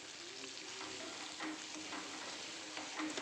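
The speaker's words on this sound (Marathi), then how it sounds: "यामध्ये आपण मिक्सरवर फिरून घेतलेला पालक घालायचा आहे" Blended spinach is stirred into masala frying in oil, giving a soft continuous sizzle with faint scraping strokes of a spoon, quiet and close, with no talk.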